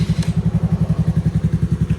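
A Honda Navi motorcycle fitted with a new aftermarket exhaust and billet throttle body idles close by, a loud, even low-pitched putter with a steady rapid beat and no revving.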